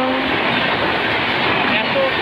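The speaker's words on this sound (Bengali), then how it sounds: "পূর্ব শাখার এই ঘন ঘন এই অহরহ এক্সপ্রেস ট্রেন চলাফেরা" An express train passes a station on the South Eastern Railway at Duya, a dense, steady rumble and rush of wheels with faint voices in the background.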